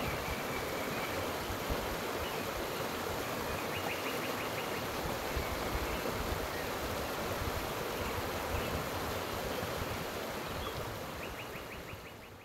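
A river in the Gila Wilderness flows with a steady, broadband rushing wash that holds even throughout and eases slightly at the very end, with faint bird chirps above it.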